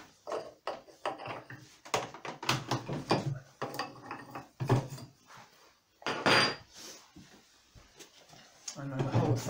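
A wooden bookbinding press is unscrewed after its edge has been ploughed, producing a series of creaks, knocks and ratcheting clicks in irregular bursts, close and moderately loud.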